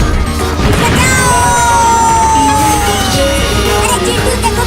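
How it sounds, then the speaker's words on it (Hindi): A cartoon firecracker bursts with a loud, crashing blast, followed by a falling whistle-like tone and a busy, cluttered comic sound effect that fills the whole clip. "अरे चिंटू देखो, मम्मी के पास क्या फट गया"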